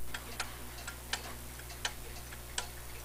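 A pendulum clock ticking out of beat after a suspension spring installation, crisp close ticks in an uneven, limping rhythm, quiet with no voices.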